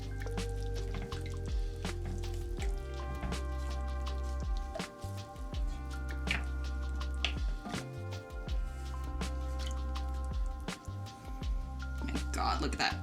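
Cream being slowly stirred into a penne alla vodka sauce over medium-low heat gives wet, squishy, dripping sounds under steady background tones.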